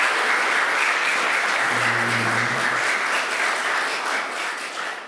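An audience in a lecture hall bursts into steady, dense applause that carries on for several seconds, loud and continuous before easing off slightly at the end, with no voices over it.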